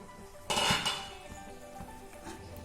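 Lid of a pot of simmering soya chunk gravy lifted off, a short metallic clank and rattle near the start followed by faint kitchen clinks and a low bubbling background.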